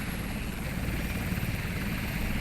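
An SH-3 Sea King helicopter in the naval combat game Sea Power gives a steady, dense rotor and turbine roar, a close continuous drone with no talk over it.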